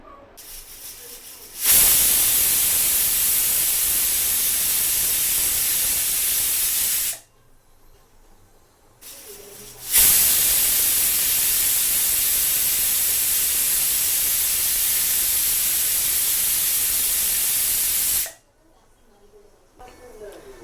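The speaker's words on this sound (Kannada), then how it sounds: "ಇವಾಗ ಇದನ್ನು ನಾನು ಕುಕ್ಕರ್ ಮುಚ್ಚಳ ಮುಚ್ಚಿಬಿಟ್ಟು 2 ವಿಷಲ್ಲಿಗೆ ಕೂಗಿಸ್ತೀನಿ" A pressure cooker with potato and green pea gravy inside whistles twice, each a loud, sustained hissing blast lasting several seconds, separated by a short quiet gap.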